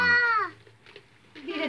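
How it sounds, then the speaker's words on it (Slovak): A house cat meows once, a clear close drawn-out cry that falls in pitch, followed by faint room noise and a soft voice murmuring at a family birthday gathering. "Á, tu máme aj mačičku."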